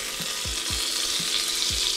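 Butter melting and sizzling in a hot pressure cooker, a steady close frying hiss with a few soft scraping stirs repeating roughly every half second.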